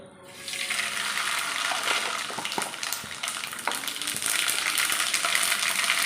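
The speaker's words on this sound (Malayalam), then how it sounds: "കഴിഞ്ഞാൽ നമ്മുടെ കടുക് നന്നായിട്ട് പൊട്ടുന്നുണ്ട്" Mustard seeds hit hot oil for a Kerala-style beef pickle and sizzle loudly and continuously, with scattered sharp pops and crackles breaking through the steady frying hiss.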